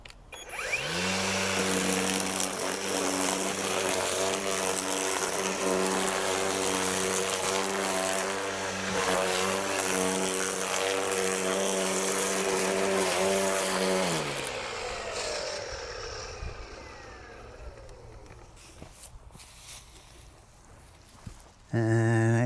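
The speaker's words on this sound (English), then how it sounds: "So then I can take my weed whacker" A weed whacker shreds a wad of green manure packed into a box, roaring loud and continuous for about fifteen seconds before winding down, then a brief final rev.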